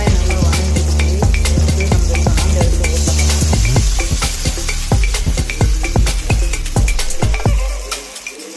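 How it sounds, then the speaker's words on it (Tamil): Onions sautéing in a pan for village-style ground tomato sambar, a continuous loud sizzle broken by repeated sharp metallic clinks and scrapes of a spoon stirring against the vessel, with no talking. "வெங்காயம் நல்லா வதங்கட்டும்."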